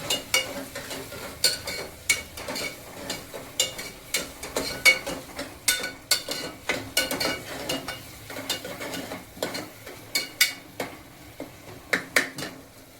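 Spoon scraping and clinking against a pan while mixed dal is stirred, irregular metallic taps and scrapes at close range, no talk.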